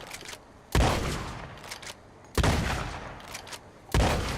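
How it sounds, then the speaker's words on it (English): Three booming blasts from a repeating shotgun in the video game Red Dead Online go off evenly, about a second and a half apart. Each hits sharp and loud, then rings out in a decaying tail before the next shot. "And now let's look at the repeating shotgun. You get 6 shots with this, which is nice."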